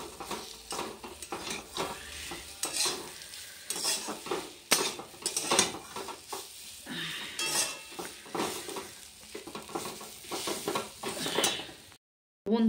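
Taro pieces frying in oil in a pan are stirred steadily with a utensil, giving continuous scraping, clinking and sizzling. It stays close and busy throughout, then drops out to silence for a moment just before the end.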